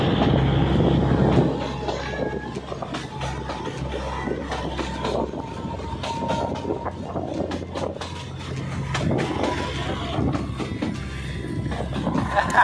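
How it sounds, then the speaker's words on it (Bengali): An old narrow-gauge toy train rolling through jungle, a continuous rumble of wheels and carriages, fairly loud and steady throughout, with no speech over it. "আর এই সেই আমাদের টয় ট্রেন যাচ্ছে জঙ্গলের ভেতর দিয়ে"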